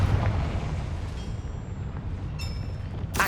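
Confringo fire spell detonating in Hogwarts Legacy: a heavy, sustained low rumbling roar with a crackling blast tail, ending in a sudden sharp burst.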